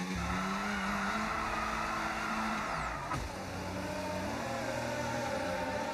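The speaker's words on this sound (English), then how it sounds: "Max Verstappen spun the car!" Tires squeal and scrub as Max Verstappen's Formula 1 car spins out at the Mexico Grand Prix in the F1 racing game, a sustained screeching skid over loud engine drone, with no talking.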